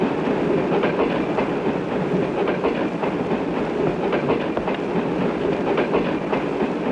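Railway carriages rattle along the track with a steady clickety-clack rhythm and a faint hiss, loud and continuous, heard as a film's background sound with no voices.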